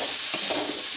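Tomatoes softened with salt are stirred in a pan, giving a steady sizzle with a few scraping strokes across one short second, no voices.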